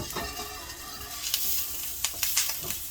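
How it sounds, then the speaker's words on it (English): Onions sauté in a pan with a quiet, steady sizzle and a few light stirring scrapes and clicks, close by and with no voices. "I sauteing some onions right now."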